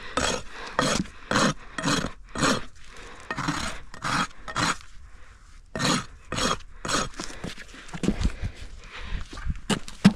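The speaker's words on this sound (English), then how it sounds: "I'm just going to use my rasp, redo my bevel, and essentially bring breakover back just a little bit" A farrier's rasp files a horse's hoof wall while fixing a quarter crack, a close series of rhythmic rough scraping strokes, about a dozen pulls with short pauses between.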